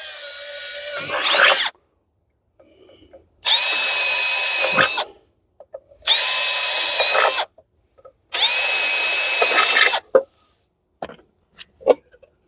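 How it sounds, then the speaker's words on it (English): A power drill with a 5mm bit bores fixing holes through the back of a plastic outdoor plug socket box: four loud, steady bursts of high whine, each one to two seconds long, separated by silence and followed by a few small clicks. "So the first thing we'll do is drill the back of the box for the fixings."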